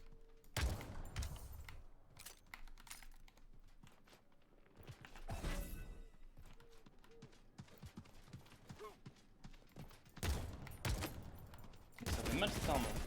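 Weapon fire in the battle royale game Realm Royale rattles off in repeated bursts alongside footsteps and clanking effects, while a player talks over the action.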